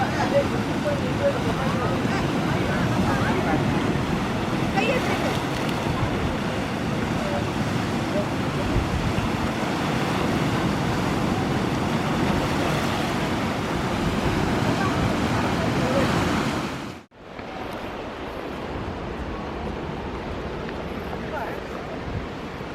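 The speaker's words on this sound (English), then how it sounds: "The waves have picked up in the water" Ocean surf rolls and crashes continuously, mixed with blustery wind noise on the microphone, briefly cutting out near the end before resuming.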